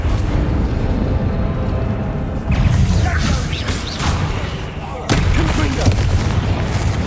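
In the video game Hogwarts Legacy, the Confringo explosive spell goes off in loud booming blasts, with two sharp bursts amid continuous battle noise and chatter.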